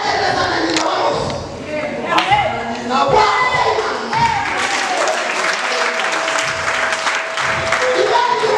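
Church congregation applauding at a revival service, a dense wash of clapping with cheers and voices mixed in, steady for several seconds with brief swells.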